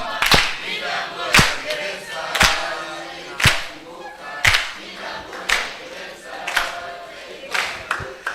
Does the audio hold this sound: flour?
no